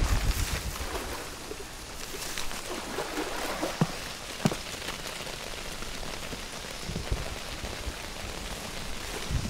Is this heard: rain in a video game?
yes